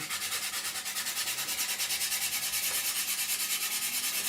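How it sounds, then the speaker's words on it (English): Steady abrasive rubbing of sandpaper over filler on a 1/32 Trumpeter F-14D Tomcat model kit, a continuous close scratchy hiss with a rapid regular back-and-forth rhythm, no voices. "this will smooth it down, get rid of the heavy scratches we caused, and still sanding it all in at the same time"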